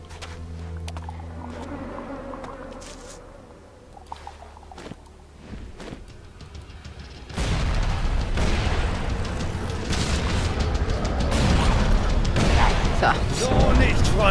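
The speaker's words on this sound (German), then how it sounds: "ich darf mich nicht verdrücken, die Handgranate zücken." A hand grenade explodes in the video game ELEX, a heavy boom followed by loud rumbling debris and noise, with someone talking during the quieter buildup.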